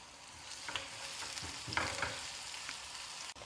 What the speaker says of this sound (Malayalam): എന്നിട്ട് ചെറിയ ഉള്ളി അരിഞ്ഞത് ഇട്ട് കൊടുത്ത് നമുക്ക് മൂപ്പിക്കാം